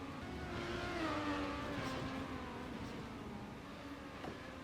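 Car driving and drifting in the racing video game Trackmania Nations: a steady, loud engine drone with shifting pitch as the car sweeps through a wide turn, continuous and close throughout, with no talking.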